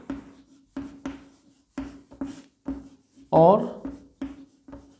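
Chalk or marker writing on a classroom board during a Hindi physics lesson for class 12, a brief scratchy stroke burst under a teacher's steady lecturing voice.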